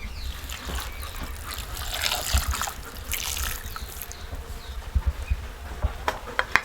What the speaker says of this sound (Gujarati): પાણી નાખી દઈ